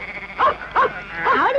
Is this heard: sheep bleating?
yes